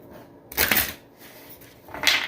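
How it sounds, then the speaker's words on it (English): Two brief riffles of playing cards being shuffled, a crisp flutter, then a pause and a second shorter burst. "we just love to hear them shuffle"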